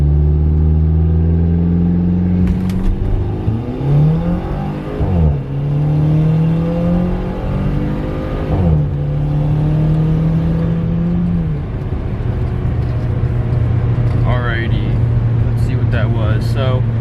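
A Race Chip tuned GTS car accelerates hard uphill in a 0 to 60 run, its engine note rising through gears with clear shift dips, loud and close throughout, with brief talk near the end.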